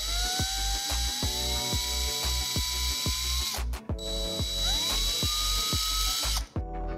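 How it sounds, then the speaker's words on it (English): A power drill grinding through an Apple AirTag held in a vise, a close, continuous whine with a steady rhythmic clicking and two brief pauses as the motor stops and restarts. "Secure the AirTag, then drill straight through your mark."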